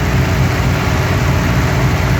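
A twin-turbo 416LSX fifth-gen V8 running on E85 idles with a dense, steady low rumble, loud and close, with no pauses or revs over the short stretch and no one speaking.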